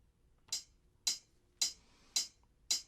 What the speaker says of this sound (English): I could use a metronome like I have here, and I can keep a beat with a metronome.